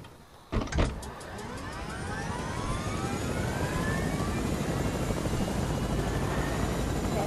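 A helicopter in a video game starting up, a brief clunk and thump followed by a steady rising whir of rotor and engine that holds loud and close, with no voices.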